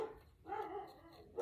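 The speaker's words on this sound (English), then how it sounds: "there's my dog, or one of them." Pet dog barking indoors during a paper-crafting session: a couple of short, fairly faint barks separated by a brief pause, alone without talk.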